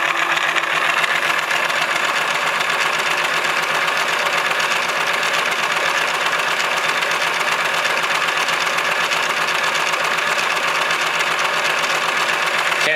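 A small electric motor fitted with new bearings, running on a 4-volt input, gives a steady, even whir and hum that holds unchanged throughout, close and fairly loud.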